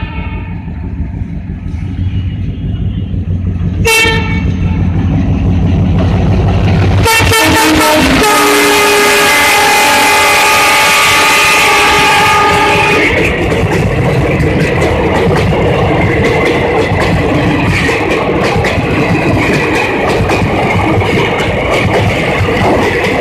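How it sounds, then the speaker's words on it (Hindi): The Saharsa–Danapur passenger train passes close by near Digha halt, loud and continuous. Its rumble and clatter of wheels run throughout, with a long blaring horn sounding partway through. "देखिए ये ट्रेन पास कर रही है, शायद स्टॉपेज हो यहाँ पे"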